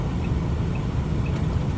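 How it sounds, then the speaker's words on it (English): Nissan UD truck pulling away in low gear: a steady, heavy engine rumble with broadband mechanical roar, close and constant throughout the short stretch, no voices. "this is what it's like taking off in low"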